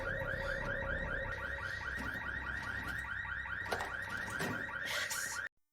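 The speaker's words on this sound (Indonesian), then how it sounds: "Tapi sayang alarm mobil tiba-tiba amunye." A car alarm sounds continuously and close by, cycling through a repeating warbling tone pattern for several seconds before it cuts off abruptly, with faint knocks and rustles beneath it.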